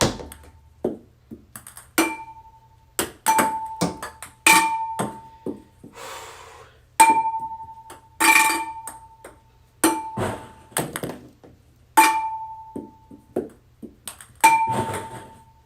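Ping pong balls bounce off a glass fishbowl in a trick-shot attempt, a run of sharp ringing pings and clacks spaced a second or two apart, each with a short bright ring, loud and close, with no talk.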